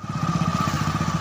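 A motorcycle engine running at night, a steady fast low putter of firing pulses with a constant whine above it, close and continuous.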